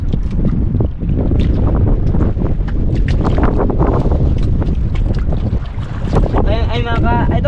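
Strong wind buffets a small fishing boat at sea as waves slap and rush against the hull, a loud, continuous roar with a brief voice near the end.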